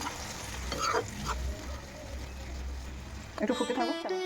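Eggplant going into spicy prawn gravy in a pan sets off a bubbling sizzle and stirring scrapes, up close, ending in a brief burst of clattering.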